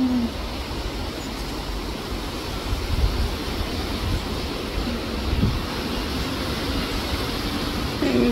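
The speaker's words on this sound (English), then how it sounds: "It's windy and stuff." Strong wind roars steadily on a rainy, windy day, a loud continuous broadband rush with occasional gusts swelling, no voices.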